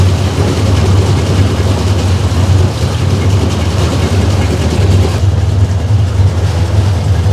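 A Tohatsu outboard boat engine drones on without a break, a deep low hum with a rough mechanical rattle layered over it, loud and close throughout.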